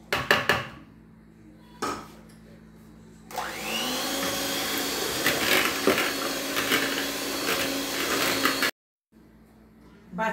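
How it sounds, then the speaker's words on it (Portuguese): A blender whirs steadily for about five seconds, mixing cream into a strawberry mixture for a strawberry stroganoff dessert. Kitchen clatter comes before it, and a short silence follows. "E a gente vai bater essa mistura até ficar bem homogênea."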